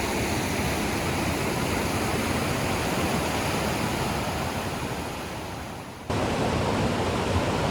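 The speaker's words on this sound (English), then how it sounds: "Beautiful waterfalls. The sounds are absolutely tremendous." Powerful waterfalls at a riverside campsite in Nantcol, a dense, continuous roar of rushing water filling the scene, steady and loud, briefly dipping before surging back at full strength.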